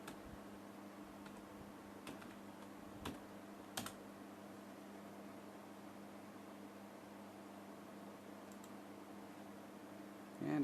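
A password is typed on a computer keyboard as a few faint, scattered key clicks over a quiet, humming room.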